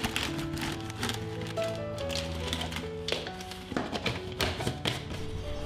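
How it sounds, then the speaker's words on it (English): Repeated light taps on a kitchen storage container while a Ziploc bag set inside it is being filled, irregular knocks and thunks running throughout over a bed of background music. "Placing Ziploc inside the container and then filling it while constantly tapping will make this job much easier."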